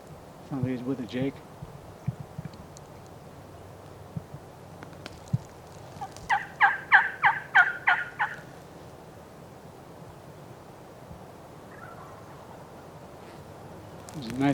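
Distant wild turkey gobbling carries across open Idaho country, with a burst of rapid gobbles from a mature bird and young jakes; faint talk and rustling sit in the background.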